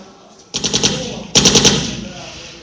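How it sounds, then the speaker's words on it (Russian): Two quick bursts of rapid gunfire, each a tight cluster of sharp shots, ringing out loud and close with a short echo after each. "Выстрелил ну, Костея в голову."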